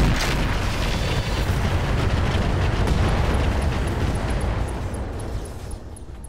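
Heavy mech weapons fire and an explosion in the BattleTech RogueTech mod, a loud, booming blast that rolls into a long, dense rumble and slowly fades.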